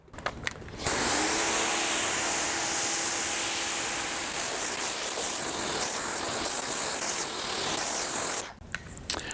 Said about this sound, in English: I'm gonna go ahead and rinse this off now so you can see the rinse off process